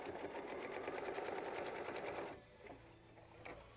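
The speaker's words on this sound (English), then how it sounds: "go ahead and sew the next step, which will be machine stitch step 15" A sewing machine stitching fabric for a quilt block runs in a fast, steady whir for a couple of seconds, then stops, leaving a quiet background hum and light handling clicks.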